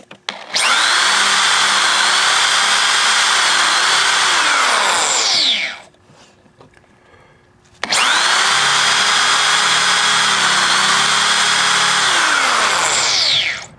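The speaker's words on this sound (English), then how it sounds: "I want to drill 1 large hole, then I'm going to change this bit to a smaller one" A loud, close power drill whines steadily into wood while drilling a countersink hole for several seconds, stops briefly, then spins up again for a second long run.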